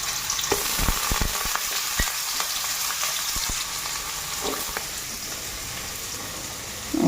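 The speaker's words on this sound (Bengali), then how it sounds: "আর এদিকে কালো জিরা সম্বার দিয়া তরকারিটা এখন বসাই দিতেছি।" Potato and soybean curry fries in hot oil with black cumin tempering, giving a steady close sizzle with scattered pops and spatters throughout, no talk.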